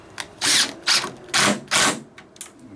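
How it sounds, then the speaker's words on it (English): An impact gun drives a screw into wood for a wooden porch swing, firing in four short, loud hammering bursts with brief pauses between them, then softer taps at the end. "This impact gun, it will strip the screw out if you keep pressing the trigger on it."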